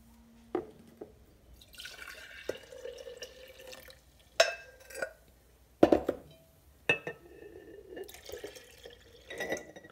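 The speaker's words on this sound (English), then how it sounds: "so it will look dark and I'll just fill it with water" Water poured into a jar of concentrated kombucha, with scattered drips, splashes and glassy clinks in short bursts, fairly quiet and close, with gaps between pours.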